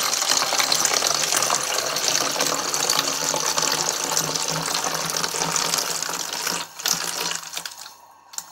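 Water runs steadily from a tap into a container, a continuous close splashing gush that tapers off near the end.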